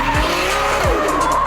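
A drift car at an Irish Drift Series round skids with understeer, its tires squealing loudly and steadily over a roaring engine, close and continuous.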